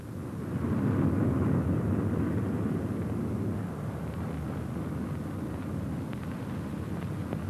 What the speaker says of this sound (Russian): Самолет-носитель атомной бомбы вылетает на выполнение боевого задания.